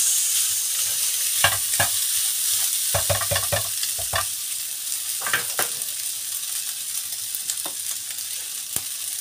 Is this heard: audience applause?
no